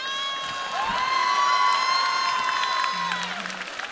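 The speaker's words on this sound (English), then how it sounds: "Let's give ourselves a huge round of applause" A school assembly audience at Milton Hershey School bursts into applause mixed with cheers and whoops, loud and sustained, swelling then easing slightly, with a crowd of children's voices shouting over the clapping.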